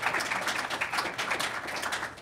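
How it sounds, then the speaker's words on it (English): An audience at a cybersecurity tech panel claps together, a steady patter of many hands at moderate loudness with no voices over it. "So a round of applause to those folks."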